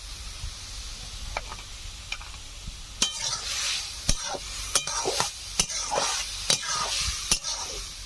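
Sour spinach with salt and turmeric sizzling in a pan, Bengali village style, stirred with a metal spatula that clinks and scrapes against the pan at a steady rhythm over the hiss.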